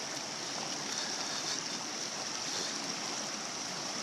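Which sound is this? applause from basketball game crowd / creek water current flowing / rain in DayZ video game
creek water current flowing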